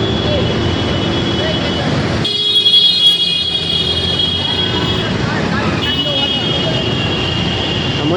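State transport buses crawl through rain-flooded traffic, their engines rumbling and droning steadily up close, with a higher whining pass partway through and a voice talking over the din.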